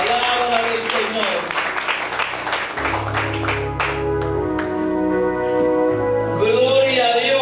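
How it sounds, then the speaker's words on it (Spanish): A church congregation claps for the Holy Word during a service. The applause is brief and scattered under musical tones at the start, then gives way to sustained keyboard or organ chords. "Fuerte los aplausos a la Santa Palabra del Señor."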